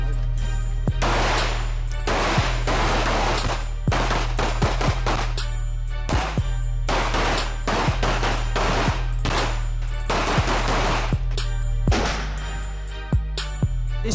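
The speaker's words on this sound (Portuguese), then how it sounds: "Uma instrução de pistola, 9mm, e a instrução de fuzil." 9mm pistol and rifle gunfire at a police shooting training range crack out in fast, loud bursts and volleys, the shots overlapping and ringing out through the whole stretch.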